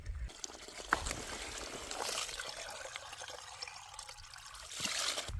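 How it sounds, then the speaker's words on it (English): A small piped spring trickles steadily near the top of a mountain trail on the Appalachian Trail, a soft continuous water flow heard alone at close range. "So there's a little piped spring right here."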